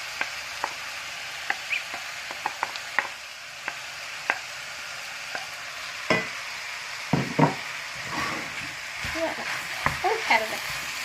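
Onions sizzle steadily in a frying pan, with a series of sharp scraping clicks from a spoon stirring them, close by and without talk.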